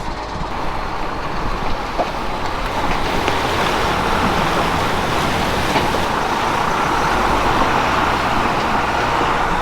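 A vehicle fords a river, producing a loud, continuous rush of churning water blended with a low engine rumble that holds steady and close throughout.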